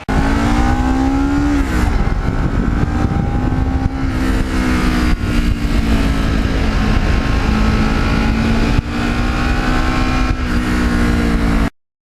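A 2009 Kawasaki Ninja 650R special edition motorcycle rides along a road, its engine droning loudly and close with slight rises and dips in revs, plus a brief gear change near the start.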